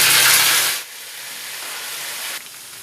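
Garlic and ginger paste hitting leftover onion oil in a kadhai, a loud broad steaming hiss that drops sharply after a moment, leaving a quieter sizzle.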